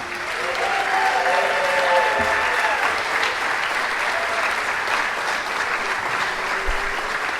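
An audience at a talk on academia gives a steady round of applause for Dr. James Lindsay, dense clapping filling the room at an even level throughout.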